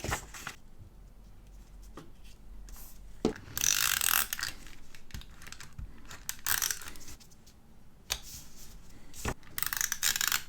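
Scissors snipping through planner paper, a series of quiet crisp cuts and rustles at close range, with short bursts of brighter slicing between softer handling sounds.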